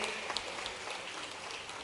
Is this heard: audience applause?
yes